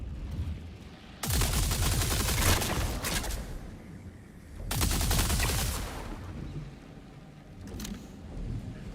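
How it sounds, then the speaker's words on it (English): Video game gunfire erupts in two long, loud, dense bursts of rapid automatic shots, separated by quieter stretches and followed by a short final burst, with no talking. "It might get a lot louder when I start shooting people"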